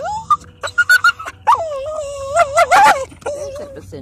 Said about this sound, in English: Basenji bark.